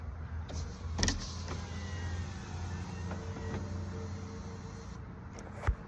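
Electric motor of a 2018-2023 Toyota Camry XSE panoramic sunroof running steadily as the glass opens, a continuous low whir with a couple of faint clicks near the start and a sharp click at the end.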